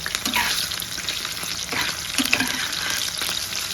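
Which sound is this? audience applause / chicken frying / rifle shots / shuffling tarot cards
chicken frying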